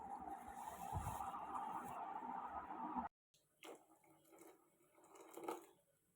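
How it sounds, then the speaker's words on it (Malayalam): Water being poured into a mixer grinder jar while making a traditional Kerala-style fish curry: a steady, close splashing pour for about three seconds, then a break followed by faint scattered drips and small knocks. "ജാറിലേക്ക് കുറച്ച് വെള്ളം കൂടി ഒഴിച്ച്"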